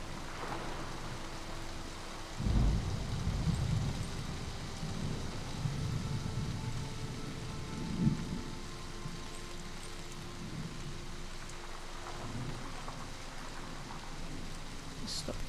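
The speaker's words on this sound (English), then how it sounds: "Do I have to be worried about the rain?" Rain falls steadily in the video game Season: A Letter to the Future, with low thunder rumbling now and then across it, and a person speaks faintly in the background.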